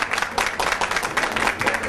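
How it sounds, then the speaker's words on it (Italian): An Italian audience at a Calabrian show applauds a woman, brisk, lively clapping from a crowd, close and fairly loud, with rhythmic bursts running throughout the short stretch. "E un applauso per lei. Un applauso."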